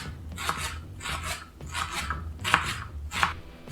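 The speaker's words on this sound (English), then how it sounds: "Just going to cut off the ends. Cut it into slices." A knife slices through fruit on a cutting board, trimming the ends and cutting it into slices for mead. Five distinct chopping strokes land in a steady rhythm, close and crisp, with no talking.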